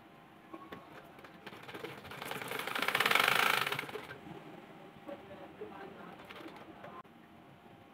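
A household sewing machine with a thread-breaking fault runs and stitches with a fast, steady whirring chatter that swells louder mid-way and then settles back to a softer, uneven running.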